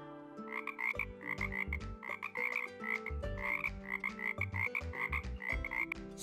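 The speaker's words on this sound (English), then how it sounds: "She croaks." Pet frog croaking loudly in a rapid, rhythmic series of harsh pulsing calls, close to the listener and alone, with brief pauses between bursts.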